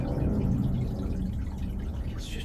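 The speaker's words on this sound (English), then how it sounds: "Let's just pour it in." Treated water pours gently into a home aquarium: a close, continuous low gurgling splash that runs throughout without pause, and no one speaks.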